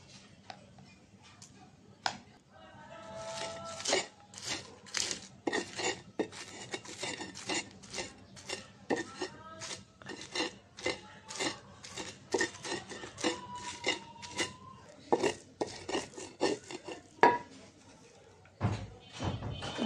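Dried chili, onion, garlic and salt being pounded and mashed together by hand for a spicy Bangladeshi bhorta, a steady run of close, sharp knocking and grinding strokes that continues through most of the stretch.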